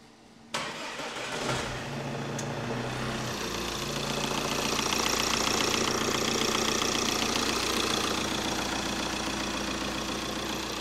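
A crash-damaged 2016 Audi Q5 S-Line running without its intercooler cranks briefly, catches with a sharp burst, then settles into a steady, slightly knocking idle that holds close and loud.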